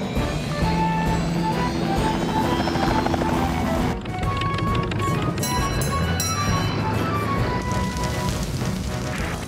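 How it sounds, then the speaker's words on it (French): A cartoon firefighting helicopter flies toward a forest fire on a mountain, its steady rotor drone loud and continuous with a brief dip in the middle, under dense background music. "On va avoir besoin de Tom Thomas et de son hélicoptère"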